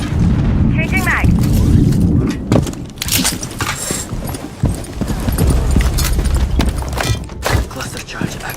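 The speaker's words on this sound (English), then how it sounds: "Cluster charge activated." Cluster charge explosions in the shooter game Rainbow Six Siege: a series of loud, punchy blasts in quick succession amid dense game noise, with talk over the action.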